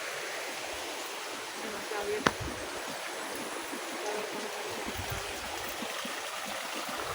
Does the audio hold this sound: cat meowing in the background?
no